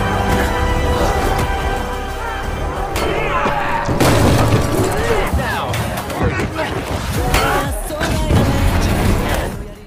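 Glass bottles shattering during a chaotic gang fight in a film, with repeated crashes and breaking glass over a loud din of shouting and clamour that continues throughout.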